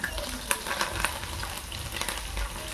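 Chilli, curry leaves and garlic sizzle and crackle in hot oil, a steady close frying hiss with sharp pops and spatters scattered throughout, no talk.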